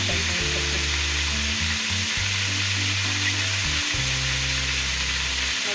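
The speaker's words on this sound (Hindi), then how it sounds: "अदरक फ्राई हो गया" Ginger fries in a pan for a potato and egg breakfast dish, giving a loud, steady sizzle throughout with stirring and a low tonal hum underneath.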